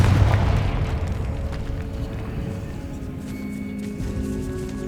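Confringo blasting curse exploding in the Hogwarts Legacy video game: a heavy, loud boom at the start that rolls into a sustained low rumble and fades gradually over a few seconds.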